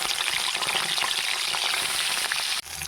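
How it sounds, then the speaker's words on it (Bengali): Fish frying in hot oil for a kohlrabi fish curry gives a loud, dense, continuous sizzle and crackle up close, which drops off abruptly just before the end. "এবার মাছগুলো আমি হালকা করে ভেজে নেবো"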